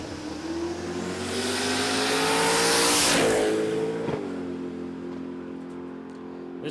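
A Camaro drag race car launches down the strip at a drag racing event, engine shrieking as it climbs through gears and surges past in a loud swell that fades with distance.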